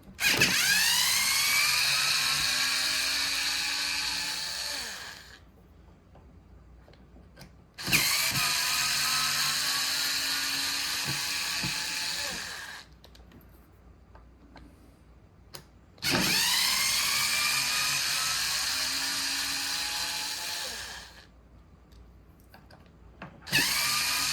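A cordless power tool spins out screws from the front bumper assembly of a Traxxas Slash LCG RC car, three whirring runs of about five seconds each, close and steady, separated by short quiet pauses.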